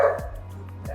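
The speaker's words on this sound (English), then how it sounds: "So there are more dogs" Dogs bark in a backyard at a family home in Sun Valley, Antipolo: two short, close barks about half a second apart, loud and clear with no talking.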